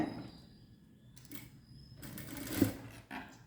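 Sewing machine stitching fabric for a kunjam knot, quarter-inch stitches, running in short bursts with mechanical clatter at close range and no talk.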